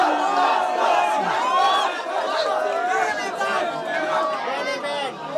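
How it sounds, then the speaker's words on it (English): An excited crowd at a Nepal vs India rap battle hollers and chatters in a dense, steady roar of many voices, loud and close throughout. "Crowd is hyped, man."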